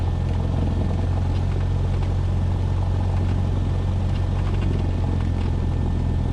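A light aircraft's engine roars at full power through its takeoff roll, a loud, steady, close drone with a deep low rumble that holds unbroken throughout and no voices.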